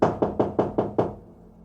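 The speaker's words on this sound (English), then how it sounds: "Michaud got out of his car and walked up to Mary's front door and knocked." Six sharp, evenly spaced knocks strike a wooden front door in a quick steady rhythm, close and clear, then fall silent.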